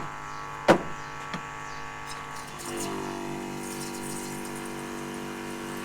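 A Flowzone Typhoon 2 electric backpack sprayer pump primes with a steady low hum. A sharp knock comes early, then a fainter tap, and the pump tone thickens and steadies partway through.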